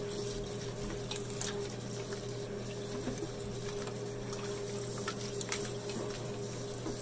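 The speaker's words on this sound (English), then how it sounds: "let me continue to rinse this butter" Cold tap water runs steadily over homemade butter being rinsed in a kitchen, a soft continuous splash over a low electrical hum.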